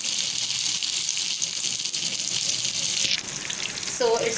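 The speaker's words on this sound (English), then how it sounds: "So it's frying right now." Minced meat kebabs fry in hot oil over a medium flame, giving a steady close sizzle and crackle throughout, with a brief faint voice near the end.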